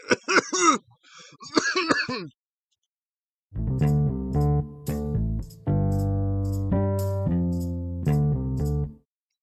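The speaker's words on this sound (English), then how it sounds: "All right, you done? You done coughing?" A burst of harsh, rasping coughs comes first, then after a pause a run of tonal, wheezy hacks and throat-clearing sounds, loud and close.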